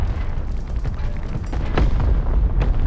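Excelsior tank's main gun fires in War Thunder Mobile: one heavy booming shot stands out near the middle over a dense, rumbling battle din, with no talking.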